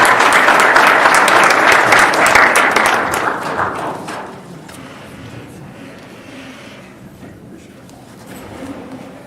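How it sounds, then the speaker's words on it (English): A city council meeting audience breaks into a round of applause for a judge: dense, loud clapping for about four seconds, then thinning out and fading into room murmur. "please give a round of applause for Judge Lasano for showing up for tonight"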